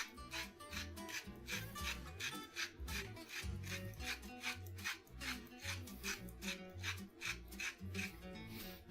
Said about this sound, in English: This is just an IKEA grinder with the same normal salt that I use, just making it finer.